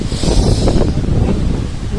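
Strong storm wind gusting outdoors in a village, rough low buffeting and rushing noise battering the microphone continuously and loudly throughout, with no voices.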